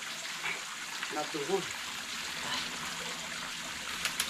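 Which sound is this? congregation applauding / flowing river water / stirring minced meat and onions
flowing river water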